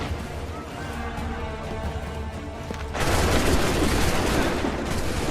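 Musket volleys crash out in Assassin's Creed III battle, first as scattered shots under crowd noise, then a sudden, much louder sustained roar of massed gunfire.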